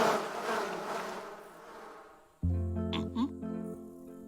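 A diffuse buzzing drone fills the first half, like bees swarming, before it cuts to a steady tonal hum with a few brief higher chirps.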